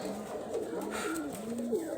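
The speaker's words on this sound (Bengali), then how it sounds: "কবুতরটা আপনাদের দেখাচ্ছি সবজি একটা কবুতর" A Rajshahi local high flyer pigeon, a green-toned bird some call Nila, coos in a low steady run of soft notes across two seconds. It is fairly close and sits over a constant background murmur, with no talk.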